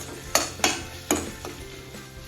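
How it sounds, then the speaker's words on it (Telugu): Ginger garlic paste and green chillies fry in a pan for a Hyderabadi paneer dum biryani, with three or four sharp utensil scrapes and clacks over a soft steady sizzle, close and fairly quiet. "నేను అల్లం వెల్లుల్లి పేస్ట్, పచ్చిమిర్చి యాడ్ చేస్తున్నాను"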